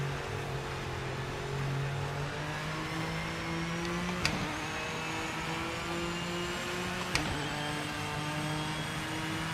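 Race car engine in the Project Motor Racing video game, a steady high-pitched whining drone with slowly shifting pitch, broken by two sharp clicks partway through.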